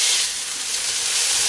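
Frozen peas hitting hot fried rice in a pan, a steady broad sizzling hiss that holds loud and even without a break.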